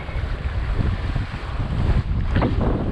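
Steady wind rushes over a sailboat at sea between St Lucia and Martinique, with water washing against the hull and heavy buffeting on the microphone, loud and continuous with no talking.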